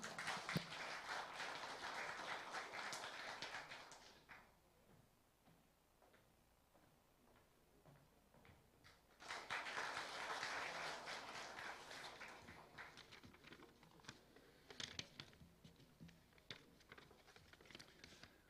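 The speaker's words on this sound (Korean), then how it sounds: "큰 박수로 맞이해 주십시오." At a university's 45th founding anniversary ceremony, the audience gives two bursts of applause to welcome an alumni association president, separated by a quieter gap and heard somewhat distant and soft.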